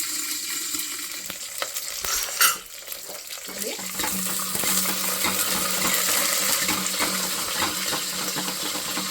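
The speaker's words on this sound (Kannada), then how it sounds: "ಸಾಸಿವೆ ಚಿಟಪಟ ಅಂತ ಸಿಡಿತಾ ಇದೆ" Mustard seeds splutter in hot oil for a sprouts saaru tempering: after a brief clatter, a dense, close crackling with rapid small pops builds and continues steadily.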